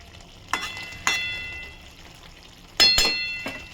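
A spoon clinks and scrapes against a metal pot in a few sharp strikes as bele fish curry with chopped coriander leaves is gently stirred, over a faint low simmer.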